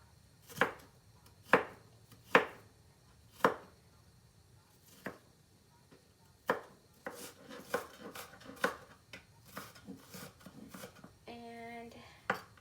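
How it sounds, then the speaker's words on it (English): Knife dicing half-moon onion slices on a cutting board, with a few sharp, well-spaced chops followed by quicker, lighter cuts and a brief scrape, close and clear with no talking. "I had already sliced the onion since I had it in half moons, so I'm just dicing it now."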